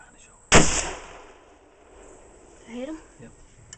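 A single sharp rifle shot at a wild boar during a hunt, loud and close with a short decaying echo, followed by quiet and then a brief voice.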